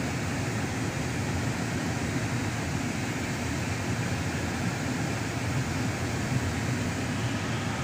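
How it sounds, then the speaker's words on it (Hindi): Air conditioning blows inside a Toyota Innova Crysta car: a steady, even whooshing hum that holds at a constant level throughout, with no voices. "एसी का आवाज सुनो भाई।"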